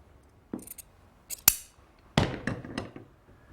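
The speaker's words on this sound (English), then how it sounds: "I'll just staple it and work my way around" A staple gun fastening a folded fabric patch onto a window bench seat, a few sharp separate snaps with faint rustling of the material between them, close and quiet overall.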